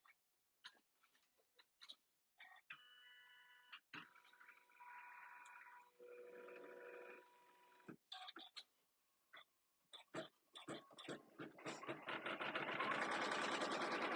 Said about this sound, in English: I do have my machine set at the highest speed, but the machine will only stitch as fast as it will for that area.